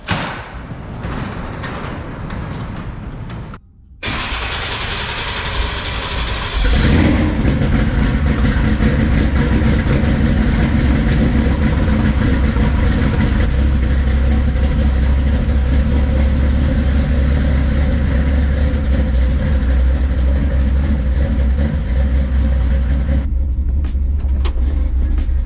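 Chevrolet C10 street truck engine running in a shop, a loud steady low rumble that settles into a constant drone after a brief cut and a thud, no speech.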